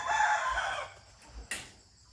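A Burmese fighting rooster crows once, loud and close, its call tapering off over about a second, followed by a sharp brief noise in an otherwise quiet yard.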